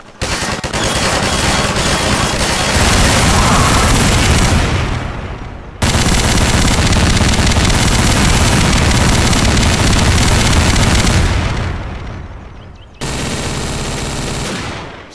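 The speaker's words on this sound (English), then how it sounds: "He's trying to shoot me, but he's not taking any damage." Rapid automatic gunfire from Combine soldiers in Garry's Mod, loud and continuous in long sustained bursts with a brief break before a final volley, no talk over it.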